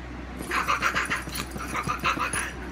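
Cats yowling and growling at each other, a run of loud, rhythmic caterwauls and hisses close to the microphone after a brief quiet start, with no talking.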